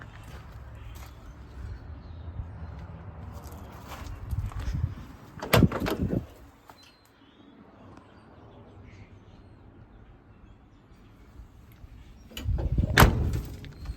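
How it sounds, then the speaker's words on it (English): The door of a 1965 Chevy C50 truck shuts with a solid thump near the middle, followed later by a second heavy thud, both close and loud over quiet outdoor ambience. "Door shut nice and smooth."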